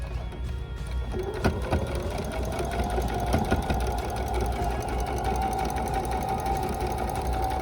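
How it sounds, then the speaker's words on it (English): A sewing machine stitches quilt block pieces in a fast, even mechanical rhythm. It starts after a short pause and then runs continuously and loudly close by, with no talking. "Line this up, and we're going to go ahead and sew it."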